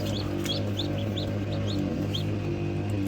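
Newly hatched Black Australorp chicks give repeated high, thin peeping chirps at a quick irregular pace over a steady low hum, close by, with no talking.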